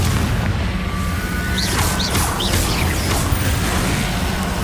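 Confringo blasting spell from Hogwarts Legacy erupting in a loud, dense explosive roar, with crackling bursts and whooshing streaks layered over a heavy, continuous rumble.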